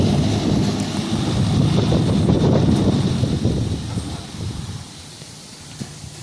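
Strong wind gusts outdoors buffet the microphone with a loud, steady rumbling roar that eases toward the end, with no talking.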